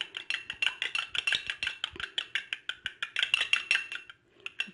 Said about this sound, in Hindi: इसको अच्छी तरह से मिला लें व्यूअर्स, ताकि ये हमारे चेहरे पे अप्लाई होने जैसी हो जाए।